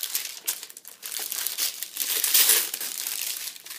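Close, continuous crinkling and crumpling of plastic and paper packaging as a Prunus Box Japan subscription box from March 2013 is unwrapped, with a brief louder rustle partway through.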